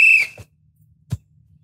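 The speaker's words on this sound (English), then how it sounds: "Are you going to blow the whistle?" A sharp, loud whistle blast at the start of a soccer game, followed by a few quiet thumps and low background noise.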